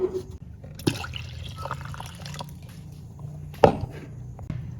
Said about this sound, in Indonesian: Selanjutnya tambahkan 1200 ml air